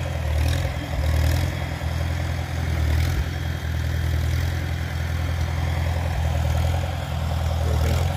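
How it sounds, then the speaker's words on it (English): A farm tractor engine runs nearby, dragging a barn-find 1937 Pontiac Silver Streak: a steady low idle-like drone with a clattering edge and slight swells in loudness throughout. "Farmer Jim's on the tractor"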